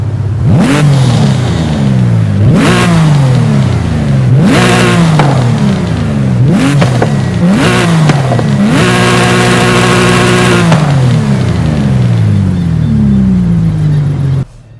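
Modified Porsche 911 GT3 RS engine in Forza Horizon 5, loud repeated revs that climb and fall, then one longer sustained high rev, all close and alone.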